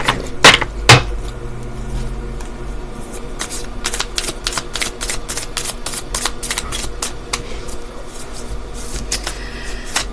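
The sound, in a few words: shuffling tarot cards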